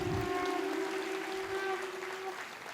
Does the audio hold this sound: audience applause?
yes